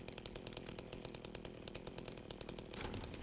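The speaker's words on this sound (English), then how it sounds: "James do be making chainsaw noises" Chainsaw in the Silent Hill 2 Remake video game, a rapid buzzing, sputtering motor chatter running steadily for a few seconds, fairly faint and heard alone without talk.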